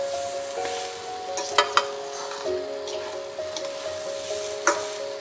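A rice and vegetable mixture sautés in a pan with a steady gentle sizzle, punctuated by a few sharp utensil clinks and stirring scrapes, close and with no talk.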